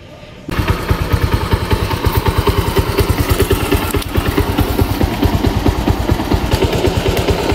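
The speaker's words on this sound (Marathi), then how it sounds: "बाईक आपली कोल्ड स्टार्ट झालेली आहे" A motorcycle engine idles steadily after a cold start before a highway ride, a close, loud, even chugging that runs unbroken from just after the start to the end.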